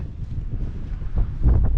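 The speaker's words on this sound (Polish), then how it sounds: "Ale wiatrzyko" Strong wind buffets the microphone on the beach at Ustka, a loud rumbling roar that swells and gusts stronger toward the end, with no talk.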